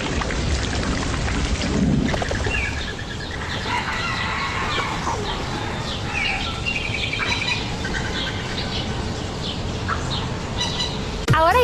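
Steady rain with rumbling thunder in a rainy-season storm, a continuous broadband wash of falling water with birdlike chirps and a rooster-like call woven through, holding at a fairly constant level before a brief louder burst at the end.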